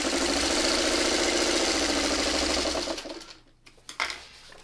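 A sewing machine stitches a quilt leader ender with a steady rapid whirr that runs for about three seconds, then stops, followed by a few quiet clicks and handling sounds.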